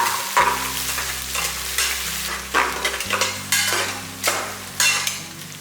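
Onions frying with whole green chillies in a pan, a steady close sizzle broken by repeated scraping stirs of a spoon at a regular pace.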